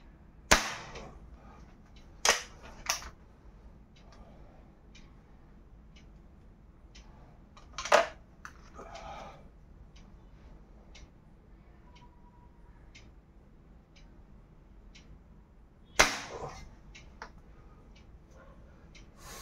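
Air rifles such as the Aarmr Tornado Nitro, SDB Sniper, Aarmr Tornado Rage and SDB Xena fire at a target 25 feet away. A handful of sharp, sudden cracks come at uneven intervals, with faint ticks and quiet room sound between them.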